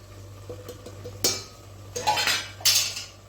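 Spices and tomato are mixed into a tamarind curry in a pot, giving sharp metallic clinks and scrapes of a spoon against the pot in irregular bursts, close and fairly quiet.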